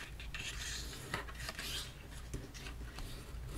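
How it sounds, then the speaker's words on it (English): Paper being burnished along folded score lines for a staggered gusset mini album, a steady close rasping rub with a few brief scrapes, heard alone without voices. "Go ahead and fold and burnish"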